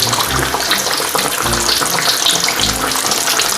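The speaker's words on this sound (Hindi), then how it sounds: "तेल मेरा गर्म हो गया है, तो अभी मैं इसमें फ़िश डालने लगा हूँ।" Fish frying in very hot oil in a kadai for a spicy Lahori-style fish fry makes a loud, steady, close sizzle and bubbling hiss that holds without a break.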